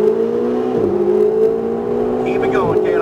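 A Ferrari accelerating hard on a race track, its engine droning loud and close as a steady rising tone that dips sharply twice with gear changes before pulling on again.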